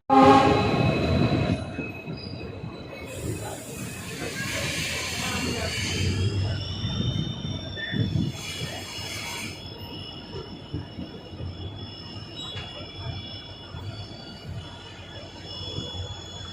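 A passenger train pulls into Dausa station on a Delhi–Jodhpur route, its wheels squealing loudly in high sustained tones over a rumbling, clattering undercarriage, with a brief horn-like onset before it settles into steady rolling noise.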